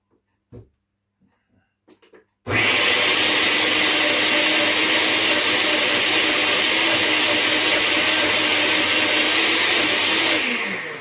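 A blender switches on after a few soft clicks and knocks, then runs loud and steady with a high-pitched whirring roar until the end.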